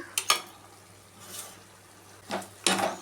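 Crushed garlic and green chillies hit hot oil with softened onions for an egg masala, giving a few brief sizzling bursts near the start and end over a low, steady background hiss.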